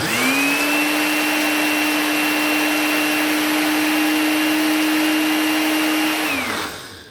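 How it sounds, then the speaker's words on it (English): A Ninja blender grinds dehydrated dried herbs into homemade spices, running as a loud, steady, high-pitched whine for several seconds before spinning down at the end, with no voices. "And guys, that's my dry spices right there. The Ninja did good."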